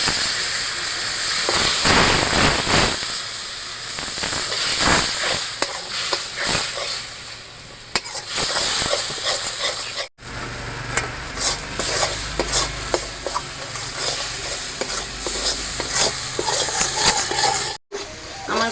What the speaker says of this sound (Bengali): এবার আমি একটু মশলাটা কষানোর জন্য নারকেলের দুধ দেবো।